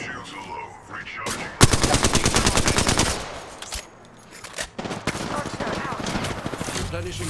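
Rapid automatic gunfire in Apex Legends, a tight burst of evenly spaced loud shots followed by more scattered firing and game noise.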